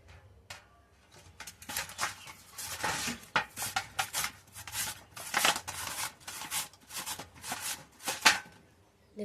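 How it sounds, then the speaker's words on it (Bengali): A potato and half a carrot being grated on a hand grater in a home kitchen, giving rhythmic scraping strokes in uneven bursts, fairly close and with no talking. "এই অর্ধেক গাজর আর আলুটাকে আমি গ্রেট করে নেব"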